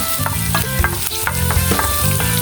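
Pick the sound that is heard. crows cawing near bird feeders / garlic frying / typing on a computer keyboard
garlic frying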